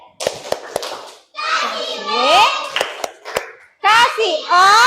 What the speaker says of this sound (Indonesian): Oke, kita kasih tepuk apa? Tepuk wow ya.